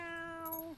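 A person imitates a cat's meow in a lottery ad, giving one sustained, close, clear meow that bends downward at the end, with no talk over it.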